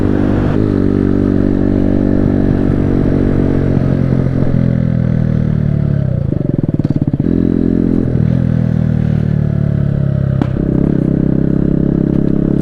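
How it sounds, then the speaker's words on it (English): Kawasaki Z125 Pro motorcycle engine running steadily up close, with a rumbling, clattery tone that dips briefly as it decelerates and gives a small pop. "Oh, nice little decel pop."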